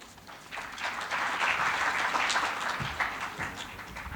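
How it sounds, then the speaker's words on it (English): An audience at the CHEMLOG India 2025 event applauds a speaker, a soft, distant wash of many hands clapping that swells after a moment, holds steady and then tapers slightly, with no talking. "Let's applaud once again for the speaker, Mr. Manish Panchal."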